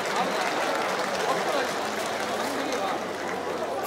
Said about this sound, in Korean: 네, 여러분 박수로 모시겠습니다.